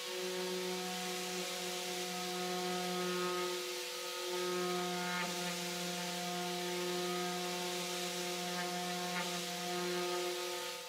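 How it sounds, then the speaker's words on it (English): An orbital sander works over Bondo repairs on a wooden dresser, producing a steady, faint motor hum with a constant buzzing tone that dips briefly before resuming. "let your sander, orbital sander, do the work for you."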